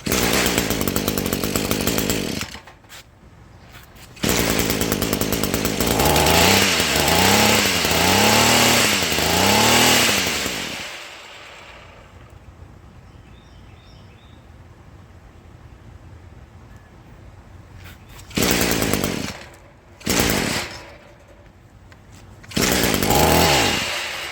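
An Echo weed eater's small two-stroke engine buzzes loudly, revving up and down in rising and falling sweeps during carburetor idle adjustment, then drops to a quiet low idle before short bursts of throttle return near the end.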